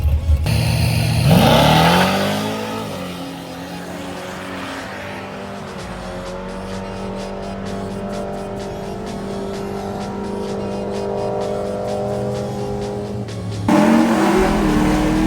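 A C-class drag race car launches and accelerates hard down the strip, its loud engine roar climbing through the gears and holding a steady high drone before a second burst near the end, with no talk.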